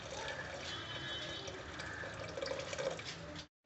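Dissolved jaggery syrup pours into cooked moong dal for payasam, a steady liquid splash and trickle lasting about three seconds before it stops abruptly.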